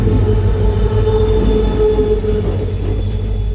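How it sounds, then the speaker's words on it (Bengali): An Agartala–Silchar train rolling past a rail crossing in Karimganj, loud and close, with a heavy low rumble, a sustained wheel squeal and no talk. "এখন ট্রেন আইব মনে হয় আগরতলা শিলচর আগরতলা ট্রেন"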